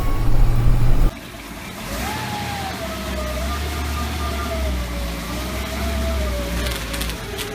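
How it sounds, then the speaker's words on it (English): A 1956 Cadillac Sedan Deville's transmission whines as it pulls away, a thin rising and slowly wavering tone riding above the rumble of the engine and road. "I'm in first, whining, shifts into second, third gear it starts again."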